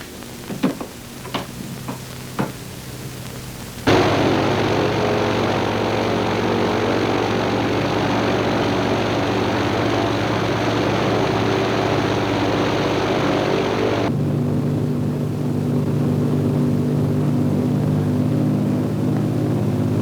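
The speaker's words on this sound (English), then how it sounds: "The port engine is very rough." A propeller aircraft in flight with a rough port engine gives a loud, steady drone that starts abruptly after a few faint clicks and later drops to a lower, duller hum, with no talk.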